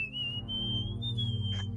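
A person whistles a melody, a single clear wavering tone held and sliding over a steady low musical backing, with no talking.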